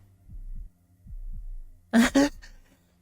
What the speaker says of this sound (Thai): เสียงหัวใจดังมาก